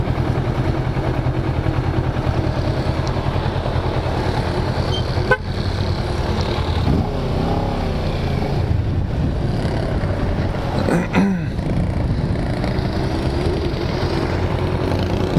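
Engine revving nearby at a car wash, heard as a short surging burst around the middle and another brief rise later, over steady loud washing and motor noise, with a horn-like toot in the mix.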